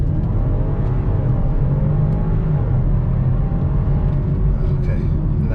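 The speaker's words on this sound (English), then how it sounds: "We'll press the brake firmly, press the gas pedal to the floor," A BMW X5 F15 launching hard under launch control, a loud sustained engine roar and rumble building steadily for several seconds, with a faint voice now and then.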